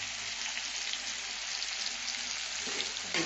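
Spiced fruit pickle with chilli powder and salt cooking in a pan, giving a steady, dense, close sizzle like heavy rain throughout, with slight stirring scrapes near the end and no voices.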